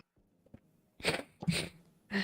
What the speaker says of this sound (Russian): Чихаешь, как котенок, будь здорова.